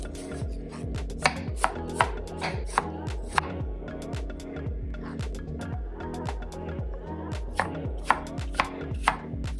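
A knife chops an apple on a cutting board for a spiced apple cake: a close, steady run of crisp chops, many in quick succession, with no talk.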